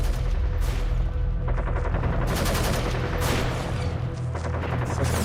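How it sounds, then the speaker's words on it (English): Rapid gunfire bursts and machine-gun rattle over heavy, loud metal music, dense and continuous throughout. "You got the bullet sounds."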